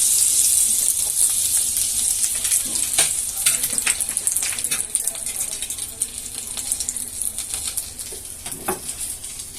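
Goat liver fries in a pan of butter and oil over a gas flame, with a loud, close, continuous sizzle and light crackling spatters throughout.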